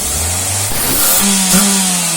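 Mitsubishi L300 diesel van engine revving up loudly and close, the pitch climbing and holding high with a rough mechanical drone, no talking.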